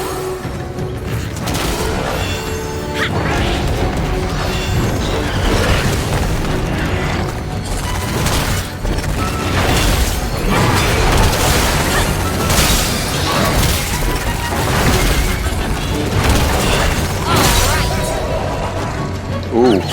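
Heavy booming bomb explosions in the video game Bayonetta Origins, with repeated loud blasts and crashes piling over busy game sound and music for the whole stretch.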